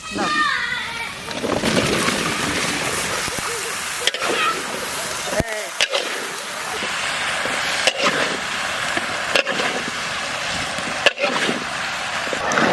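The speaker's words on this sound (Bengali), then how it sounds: "হ্যাঁ, এবার আমরা আলু ঢেলে দেবো।" Potatoes tipped into a large pot of khichuri being cooked for a village puja, giving wet splashing and sloshing with a few sharp knocks, loud and close over steady outdoor noise.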